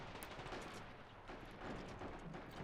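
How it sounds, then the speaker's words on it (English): Faint scattered gunfire crackles in the distance during a city siege battle in the World War II strategy game Men of War: Assault Squad 2, quiet irregular shots over a low background wash. "You can hear some of the gunshots there in the distance."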